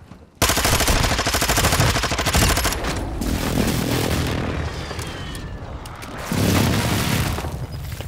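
Heavy video-game gunfire sounds from the left, a loud sustained stream of rapid shots and booms, swelling again near the end with another burst.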